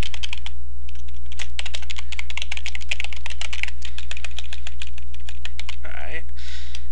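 Rapid, steady keystrokes as a URL is typed on a computer keyboard, close and crisp over a constant low hum, ending with a short sliding sound.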